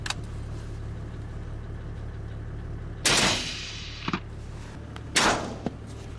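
Two loud gunshots crack out about two seconds apart during a camel cull in the Australian outback, each followed by a quick echo, over a steady engine-like drone of a nearby vehicle, with a few small knocks between.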